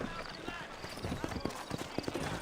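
Horse hooves clip-clop steadily on dirt in a Red Dead Redemption Western setting, a fairly quiet irregular patter of hoofbeats heard under someone speaking.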